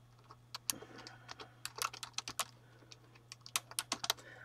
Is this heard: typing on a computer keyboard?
yes